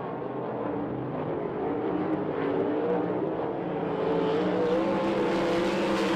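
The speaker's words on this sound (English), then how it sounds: "moving that top side of the racetrack up with Kyle Evans with the 84" Sprint race cars roar around a dirt speedway at an ASCS vs USAC event, a continuous loud blend of high-revving engines that builds slightly as the pack passes.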